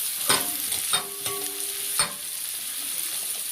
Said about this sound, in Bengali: দেখো, ক্যাপসিকাম আর পেঁয়াজটা পুরোপুরি ভাজা হয়ে গেছে।